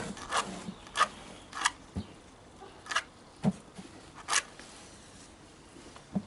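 A match is scraped hard against a matchbox again and again, making short rasping strokes at a fairly regular rhythm, close by, with no clear flare of ignition.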